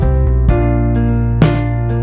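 Music with a short slapback echo, a single quick repeat trailing each note in a 1950s style, heard on sustained piano-like chords with soft percussive accents, steady and fairly loud, no voices.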